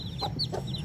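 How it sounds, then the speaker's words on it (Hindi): An Aseel hen gives a couple of short, close clucks in quick succession over a low steady background. "तो ये हमारी मुर्गी भी असील है।"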